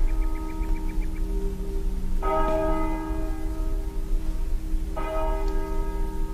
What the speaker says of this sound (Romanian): E întâia oară că sună clopotele noului lăcaș.